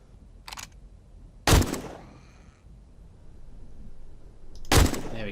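A modded gun is test-fired at zombies in the 7 Days to Die video game: two loud, sharp shots a few seconds apart, each with a short ringing tail, plus a fainter click between them.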